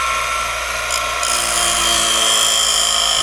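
Bench grinder sharpening a jointer blade, a continuous high metallic whine with steady grinding hiss, close and loud, briefly shifting in pitch as the blade is pressed against the wheel, with no voices.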